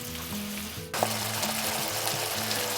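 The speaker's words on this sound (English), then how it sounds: "That's the mince meat in now. We're just going to brown this" Beef mince browns in a frying pan with a steady, close sizzle that grows denser and louder after a brief shift partway through, and it continues without a break.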